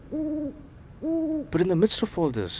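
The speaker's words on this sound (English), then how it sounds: "that owl hooting away on some tree" Two long, steady hoots from an owl perched in a tree at night near a bungalow, clear and fairly close, followed by a person beginning to speak.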